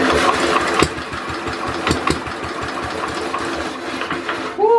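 A Simplicity Landlord lawn tractor's small engine cranks over with rapid rhythmic chugging for several seconds, close and loud, without catching.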